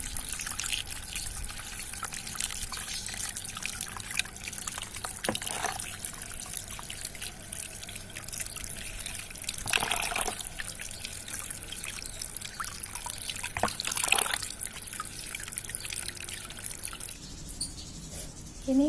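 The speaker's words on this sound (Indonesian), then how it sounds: "Setelah itu kita cuci bersih ya." Palm seeds from a foxtail palm are washed clean with water, giving a steady trickling and dribbling of liquid with light splashes throughout, and a few brief louder gushes near the middle, heard alone without talk.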